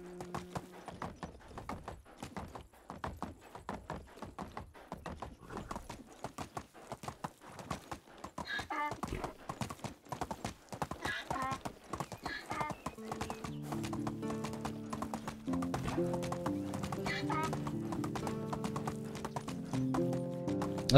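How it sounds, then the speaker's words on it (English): Rhythmic hoof clip-clop from a donkey in a video game, steady plodding steps that grow louder and busier later, with a braying call mixed in and a low musical drone. "I can't but notice the donkey noise is coming from,"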